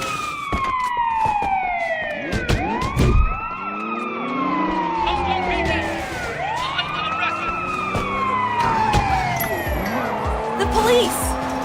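Police car siren in the video game Sleeping Dogs, a loud rising and falling wail that sweeps repeatedly over engine noise and a tire squeal, with voices talking over it.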